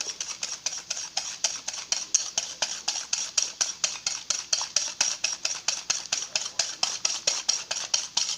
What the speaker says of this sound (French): Tu blanchis l'œuf, le jaune et le sucre, ça va faire blanchir.